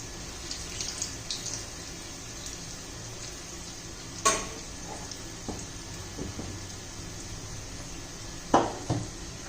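Dahi vada frying in hot oil in a pan, a steady close sizzle running throughout with occasional sharp clinks of a utensil against the pan.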